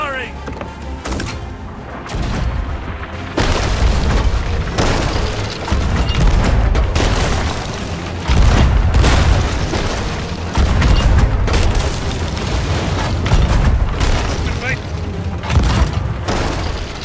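Cannon fire and explosions in the pirate video game Sea of Thieves: repeated heavy booms and bursts in rapid succession, loud and continuous, with shouting voices over the din.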